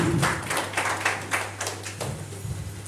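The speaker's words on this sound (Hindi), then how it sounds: "मैं जोरदार तालियों के साथ" School audience applauding to welcome a guest speaker, scattered hand claps with a low steady hum beneath, moderately close and thinning toward the end.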